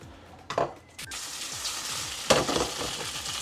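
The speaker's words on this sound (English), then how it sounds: "So these are just frying in a bit of oil" Courgettes sizzle and crackle steadily in hot oil in a pan, with a couple of clinks and scrapes of a utensil in the pan.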